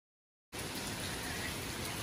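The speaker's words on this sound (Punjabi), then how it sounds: "ਮੀਂਹ ਹੁਣ ਪੂਰੇ ਜ਼ੋਰਾਂ ਨਾਲ ਆਇਆ ਹੋਇਆ" Heavy rain sets in as a steady, even hiss after half a second of silence, then stays unbroken and moderately quiet to the end, with no voices.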